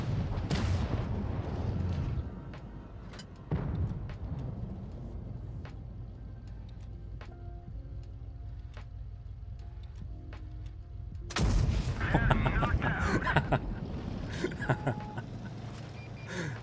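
Tank cannon fire in the World of Tanks Blitz video game during a competitive match, heavy booming shots cutting through a steady engine rumble, one loud blast near the start, another around four seconds in and a dense burst of impacts later.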